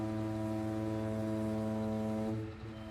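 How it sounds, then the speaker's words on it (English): A loud, sustained horn blares steadily in Farming Simulator 19 for over two seconds, then cuts off, leaving quieter game sound. "His horn is so loud."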